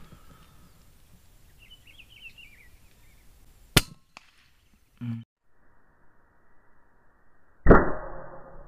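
Slingshot fired with RC slug ammunition outdoors by a reservoir: a sharp snap of release, a brief whir and thud, then a louder crack-like impact near the end, with faint birdsong between.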